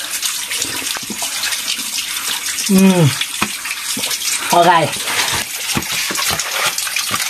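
Water gushing steadily from a village water spout in rural Nepal, a continuous splashing rush with someone speaking briefly over it.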